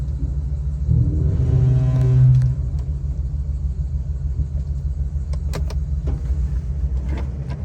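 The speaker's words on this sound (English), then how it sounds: "I'm gonna drive it off the blocks." A 2022 Ford E450 motorhome rolls off its blocks with a low, steady engine rumble, a brief rise in engine noise early on, then an even idle with a few faint clicks and knocks.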